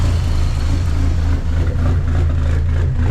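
A Dodge SRT-4 with a side-exit exhaust runs at a steady, even idle nearby, a deep continuous rumble filling the whole stretch with no voices over it.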